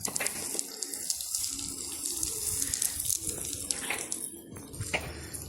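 Water is poured and sprayed onto bricks at an outdoor building site, making a steady, close splashing and trickling wash that lasts throughout without a break.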